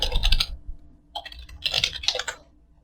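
Bursts of quick clicky keystrokes on a computer keyboard, close and crisp, in two clusters separated by a short pause, with no talking.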